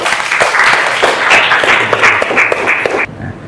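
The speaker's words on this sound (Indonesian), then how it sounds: "tepuk tangan untuk Adi" A classroom audience claps in a short, dense burst of applause for a student that lasts about three seconds and then cuts off abruptly.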